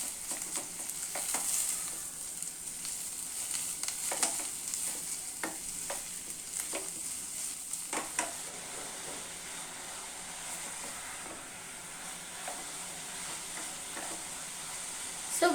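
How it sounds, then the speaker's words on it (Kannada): Shredded cabbage stir-fried for veg hakka noodles, a steady sizzle and hiss from the pan with a run of sharp scrapes and clacks of the stirring spoon scattered throughout, close and fairly loud, with no talking. "ಇದನ್ನ ಹಾಕ್ಬಿಟ್ಟು 1 ನಿಮಿಷ ಫ್ರೈ ಮಾಡ್ಕೋಬೇಕಾಗುತ್ತೆ ನಾವು."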